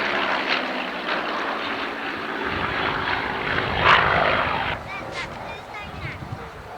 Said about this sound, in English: Spitfire 5B.